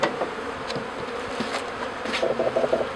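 Honey bees from a newly installed package buzz in a steady, dense drone, with a few louder passes close by and no voices.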